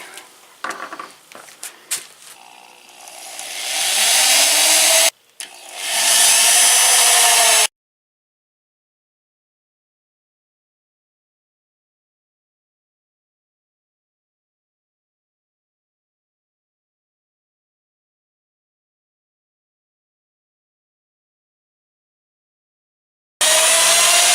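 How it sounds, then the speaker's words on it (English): A power drill bores holes in a ZX2 LED license plate. Two loud, close whining bursts last several seconds, then there is long silence and a brief final burst of drilling. "So I'll get these drilled out."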